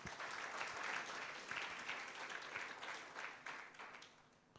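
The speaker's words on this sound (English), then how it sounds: "Let me request this audience to give you another big," A conference audience claps steadily at a capital markets gathering, a dense, sustained wash of hands that holds strong and then gradually tapers toward the end, with no voices over it.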